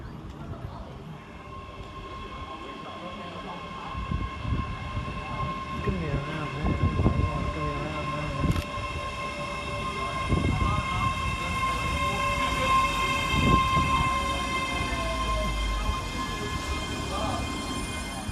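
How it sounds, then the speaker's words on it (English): A ScotRail class 385 electric train pulls into Polmont station, a close rumble with wheel clatter and a steady whine building gradually, with faint voices of people on the platform now and then. "here comes our train in the form of 385-005, working the 1529 Scotrail service from Edinburgh Waverley to Glasgow Queen Street"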